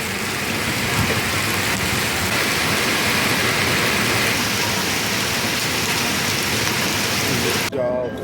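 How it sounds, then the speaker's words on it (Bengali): Heavy rain falls outdoors beside a hotel in Joypur Forest, Bankura, a loud, dense, unbroken hiss that cuts off abruptly near the end. "বৃষ্টি দেখা শেষ"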